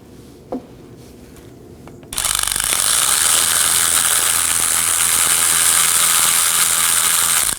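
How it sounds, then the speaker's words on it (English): A ratchet works loose the slider pin bolts on a Nissan Maxima brake caliper, a loud, dense, continuous clicking whir up close that starts abruptly after a couple of quiet seconds and a single small knock. "Let's remove the two slider pin bolts."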